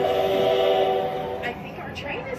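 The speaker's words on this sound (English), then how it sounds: "I think our train is here." A display train in the Gaylord Hotel Christmas setting pulls in, a steady whistle-like tone over a low rumble that fades partway, with people talking nearby.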